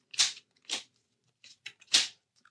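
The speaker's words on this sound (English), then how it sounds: "now I'm gonna shuffle and draw 2." A deck of cards shuffled during a solo tabletop board game, heard as several short crisp riffle bursts in quick succession, close and clear with no talking.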